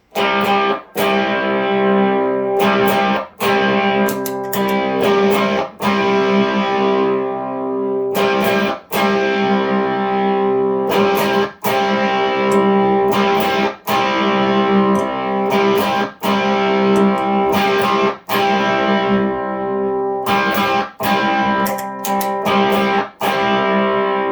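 Electric guitar played through a D&M Drive overdrive pedal with the gain set halfway, giving loud, sustained overdriven chords struck repeatedly with brief gaps between strums, alone with no talk.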